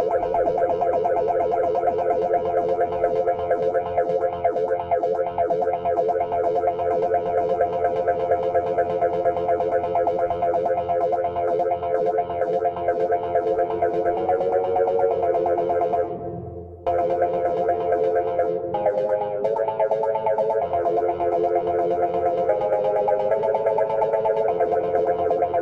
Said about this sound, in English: Now let's start dialing up the room reverb.